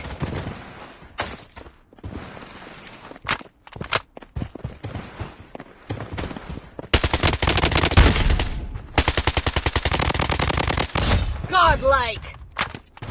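Heavy automatic rifle fire in the BloodStrike shooter game, loud sustained bursts of rapid shots with short gaps, mixed with game effects and announcer voice lines.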